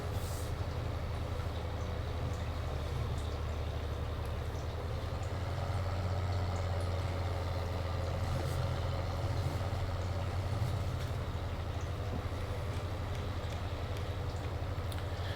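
Tractor engine in Farming Simulator 19, fitted with a front weight and rear wheel weights, drones steadily at a low pitch for the whole stretch, a constant near rumble with no break and no talk over it.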